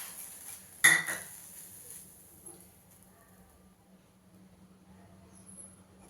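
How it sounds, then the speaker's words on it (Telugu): A pan is set down on a stove with one sharp metallic clank, then a light clatter follows as peanuts go in. Faint scraping and a low hum trail off into near quiet. "వెలిగించి ప్యాన్ పెట్టుకొని 2 టేబుల్ స్పూన్ల పల్లీలు వేయాలి."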